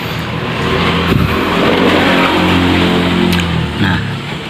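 A carbureted Yamaha Mio scooter engine revs loudly and close by, rising and wavering unevenly as the throttle opens, then sagging toward a stall near the end.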